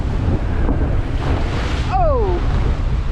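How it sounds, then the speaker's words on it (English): Strong wind roaring over ocean waves and surf in the Drake Passage, heard from a sailboat en route to Antarctica, a steady loud wash with a brief whistling gust near the end. "There is some really good waves here,"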